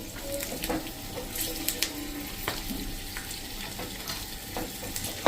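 A tempering of chana dal, asafoetida, mustard seeds and curry leaves sizzles in hot oil for wheat fada idli batter. Scattered sharp pops and crackles rise over a low, continuous frying hiss.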